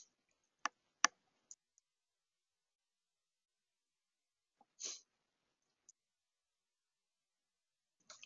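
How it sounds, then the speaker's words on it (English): One short, sharp sneeze in a mostly silent room, preceded by a few faint clicks and followed by another brief burst. "Excuse me, I sneeze."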